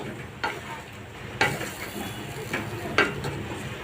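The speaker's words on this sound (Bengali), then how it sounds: "মশলা ভালো করে কষাই আমি" Spice paste with chopped tomato and green chili frying in a pan for a fish curry: a soft continuous sizzle broken by a few sharp scraping strokes of a spoon against the pan.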